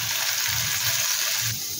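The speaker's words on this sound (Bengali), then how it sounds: "দেখো, আলুগুলো ভাজছি, এখনো ভাজা হয়, একটু ভাজা হবে।" Potato pieces frying in hot oil in a pan, giving a continuous, even sizzle with a soft bubbling crackle and no talking.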